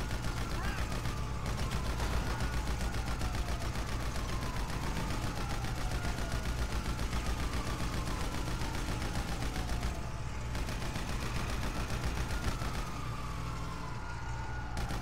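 Continuous rapid gunfire from Grand Theft Auto V gameplay, a steady dense fusillade throughout with wailing siren sweeps layered over it and occasional brief voices mixed in.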